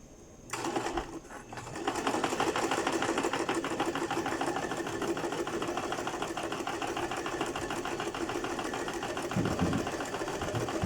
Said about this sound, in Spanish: Ok, entonces vamos a hacer zigzag.